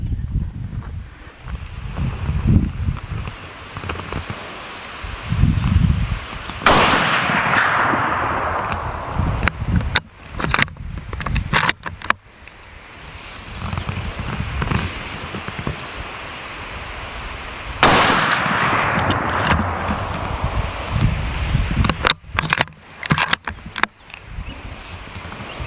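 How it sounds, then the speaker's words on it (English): A Winchester Model 70 .270 rifle fires Hornady 140-grain rounds outdoors: two loud, sharp shots spaced about eleven seconds apart, each with a short decaying tail, over steady wind and rustling noise. "we're shooting the Hornadys first"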